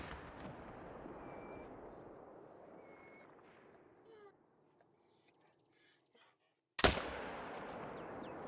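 Hunting rifle shots in theHunter: Call of the Wild, hunting game animals on the Emerald Coast reserve: a couple of sharp reports, the first trailing off into a long echo, then near silence before a second loud, abrupt crack.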